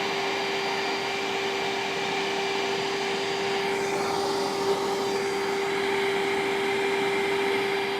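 A vacuum cleaner sucking air out to draw water up, a steady loud whirring hum with a constant tone, running continuously without talk.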